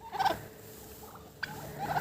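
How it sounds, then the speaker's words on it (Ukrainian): A few soft, short bird calls sound nearby, with quiet rustling in between, like a young turkey chirping. "молодий індичок прийшов поїсти кукурудзки"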